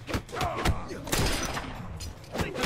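Gunfire in the fighting game Mortal Kombat X during a tournament match, several quick loud shots in a burst, with other game effects around them.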